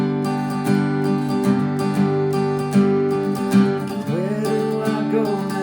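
An acoustic guitar plays the chorus of a song, ringing strummed chords sustaining close and clear, with a slide into a new chord near the end.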